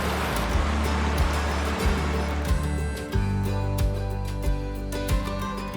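Waterfall rushing at Cedar Run Falls in Shenandoah National Park, a steady broad roar of falling water with repeated low thumps and knocks over it, fairly close and loud, no talk.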